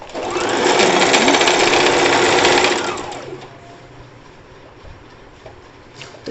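A sewing machine stitches the sleeve of a kurti in one continuous loud run lasting a few seconds, then stops, leaving a quiet room with faint handling noises.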